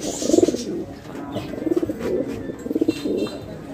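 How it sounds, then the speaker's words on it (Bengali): A male fancy pigeon coos just after being released, giving three rhythmic bursts of close, moderately loud cooing with brief pauses between them and no talking. "এখন দুইটা কবুতর ছেড়ে দেই, নরে ডাকটা দেখেন।"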